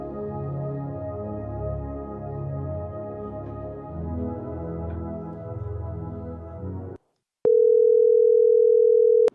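Layered music plays for several seconds, then cuts to a brief silence before a loud, steady telephone dial tone hums on continuously.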